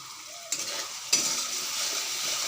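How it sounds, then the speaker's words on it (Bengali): Ground spices frying in hot oil in a pan while being stirred, a close, steady sizzle with two sharp scraping stir strokes, no talking. "আর ভালো করে কষাই নেব।"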